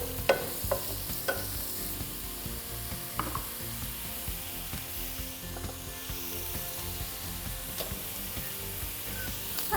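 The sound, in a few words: pan frying and stirring onions, carrots and garlic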